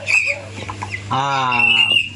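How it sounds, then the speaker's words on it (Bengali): A chicken clucks up close, in a poultry-keeping setting, with short calls early and then a longer, drawn-out harmonic cluck over a steady low hum. "মুরগি"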